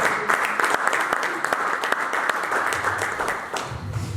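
A church congregation claps in lively, dense applause that goes on steadily for several seconds, with scattered voices mixed in and the clapping staying close and full throughout.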